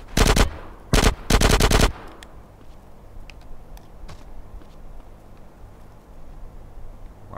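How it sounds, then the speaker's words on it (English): Automatic gunfire in GTA San Andreas, three sharp loud bursts in the first two seconds, then a quieter stretch with a few faint distant pops. "Bro, who's shooting me?"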